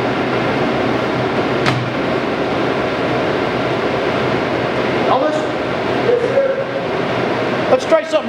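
A Monarch 17 x 30 Model 61 toolroom lathe runs with saddle and longitudinal carriage feed engaged, a steady mechanical hum and whir close by, with a few brief clicks and a voice near the end.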